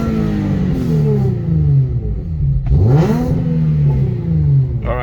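A 2008 Infiniti G37 with an automatic 5-speed and a tuned engine is revved at full throttle while parked, rising and falling twice in loud close sweeps with a steady idle between them.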